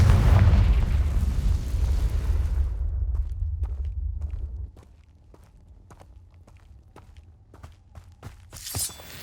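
A Confringo blasting spell explodes in Hogwarts Legacy with a loud, deep boom that rumbles and fades over several seconds, followed by quieter scattered clicks and footsteps and a brief bright burst near the end.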